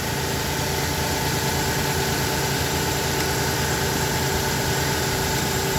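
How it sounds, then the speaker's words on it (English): A truck engine idles in a steady, unbroken drone with a low rumble and faint vibration, close by, with no voices. "Now you're going to hear the engine make a change in noise and probably start squeaking"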